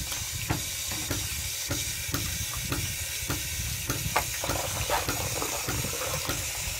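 Steady stream of cold tap water running and splashing, with small irregular clunks and knocks as chicken is rinsed underneath; close and continuous, no voices.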